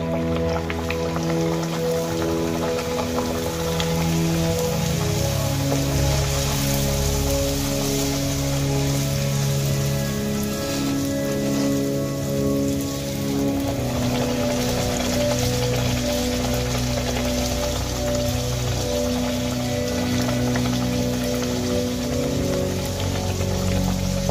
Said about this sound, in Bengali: এক এক করে সমস্ত লুচি আমি এইভাবে ভেজে নেব।